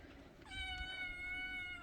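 A kitten gives a single clear, drawn-out meow partway through, close and fairly quiet against a soft background.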